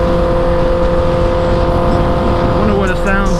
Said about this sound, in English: I really underestimate how loud this bike is.